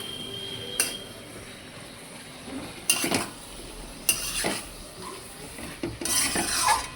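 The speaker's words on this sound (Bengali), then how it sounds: "আর মশলা কষানোর সময় গ্যাসটা একদম কমিয়ে নিয়ে মশলা কষাচ্ছি।" Spices for a thin chicken curry with papaya and potato fry on low gas, a quiet steady sizzle broken by scattered scrapes and clinks of a spoon stirring against the pan, close by and without speech.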